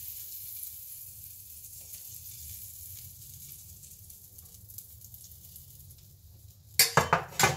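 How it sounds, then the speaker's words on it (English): Margarine sizzles in a frying pan for a cheese omelette, a steady soft hiss running for several seconds before a few sharp metallic clatters of a pan or utensil at the end. "margarine in the pan."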